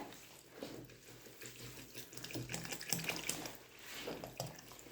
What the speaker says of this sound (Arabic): نزيدو الماء. نزيدو الماء بسم الله.